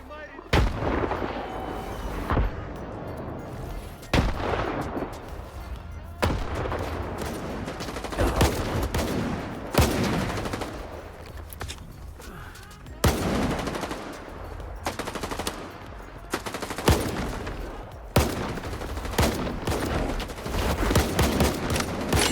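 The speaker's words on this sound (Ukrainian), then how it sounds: "стріляємо по готовності" Loud, continuous gunfire in STALKER 2 with heavy booming blasts and rapid bursts, dense and close, going on throughout without a break.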